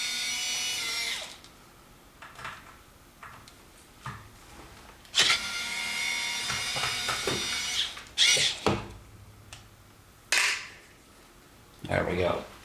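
Screws being backed out of the front plate of a Kenwood KA-4006 stereo amplifier, knobs already removed: close metallic scraping and squeaky driver turns in short bursts separated by pauses and small clinks.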